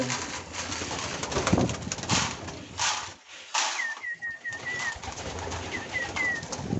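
Soft pigeon cooing from breeding pigeons with eggs and young comes and goes over a rustling, busy background, with a few brief higher chirps later on; no one speaks.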